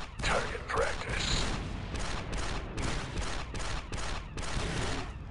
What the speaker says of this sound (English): I just keep on shooting.